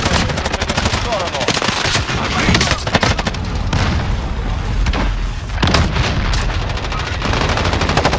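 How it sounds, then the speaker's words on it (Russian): Dense, loud battle sound from Call of Duty: Warzone, with continuous rapid gunfire and heavy booming blasts, including a grenade explosion, filling the whole stretch without pause. "Кидаю гранату."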